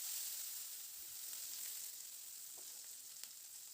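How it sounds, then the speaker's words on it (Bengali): Onion frying in a pan, stirred now and then: a steady, fairly faint sizzle runs throughout with a few light scraping touches, no voices. "এবার পেঁয়াজটা দিয়ে মিনিট ২-১ মতো একটু নাড়াচাড়া করে পেঁয়াজটাকে হালকা করে একটু প্রথমে ভেজে নেব"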